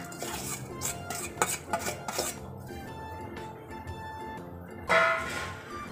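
Sugar and rice flour are mixed in a bowl with a continuous scraping, clinking stir, and a louder rattle of the bowl comes near the end.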